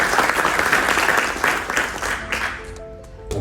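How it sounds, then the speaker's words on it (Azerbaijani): Audience applause at a graduation ceremony for young women, a dense continuous clapping that fills the hall, then thins and fades toward the end as a few sustained tones come in. "hər birinizdən bunu alqışlamağı xahiş edirəm"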